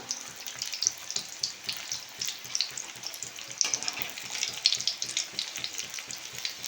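Cabbage balls frying in oil, a bubbly crackling sizzle with rapid popping, steady and close, with a brief thump partway through as pieces are lifted out one by one.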